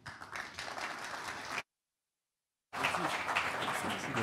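Audience applause at the official opening of TIF 2022, a dense broadband wash of clapping that cuts to total silence midway and then resumes just as strongly.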